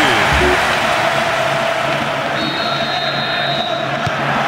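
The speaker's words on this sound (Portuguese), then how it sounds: "Que festa faz a torcida por aqui!" A crowd roars in a PS2 football video game after a goal, a dense, steady wash of stadium cheering that holds at high level throughout, with no clear individual voices.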